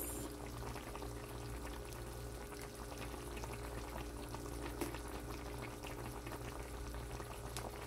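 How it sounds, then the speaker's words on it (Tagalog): Oyster sauce is poured into a pan of cooking food, a steady low bubbling and faint sizzle running throughout with no clear pouring splash standing out, fairly quiet and continuous. "Maglalagay ako ng oyster sauce."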